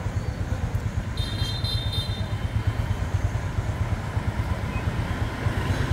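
A 2007 Honda Future Neo GT motorcycle engine idles steadily nearby, a continuous low rumble with faint mechanical ticking and no voices.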